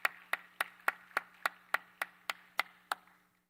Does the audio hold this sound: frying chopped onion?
no